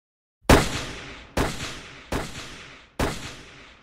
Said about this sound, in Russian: впереди загремели еще выстрелы